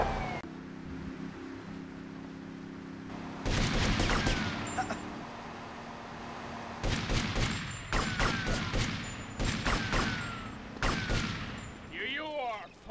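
Gunfire in a Grand Theft Auto V police chase, loud bursts of rapid shots in clusters over a continuous engine drone, with brief pauses between volleys and game voices in between.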